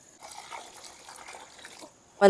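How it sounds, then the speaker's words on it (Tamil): Thin flattened rice for kozhukattai is rinsed in water, giving a soft, close swishing and sloshing that ends in a sudden louder splash. "இப்போ அவலை வந்து ஒரு 2-3 டைம் நல்லா கழுவி எடுத்துக்கலாங்க"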